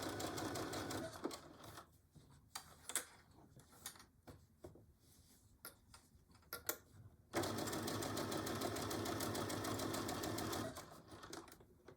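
Sewing machine stitching a Betty Boop pillow cover runs in a short burst, pauses through scattered clicks and handling noise, then back stitches in a steady, close whirring run of about three seconds before stopping.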